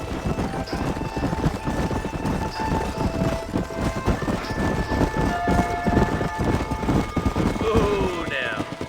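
Horses clip-clop at a steady walking pace across rough ground in the Red Dead Redemption western video game, hoof beats rhythmic and fairly close, with game ambience and a brief rising whistle-like tone near the end.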